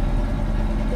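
A Detroit Diesel 8V92 engine in a Peterbilt 352 truck in a driving game rumbles steadily and loudly at idle, a dense, constant low drone with no talk over it.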